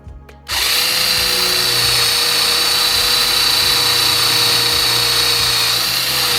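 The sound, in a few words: cordless drill with brushless motor drilling through aluminum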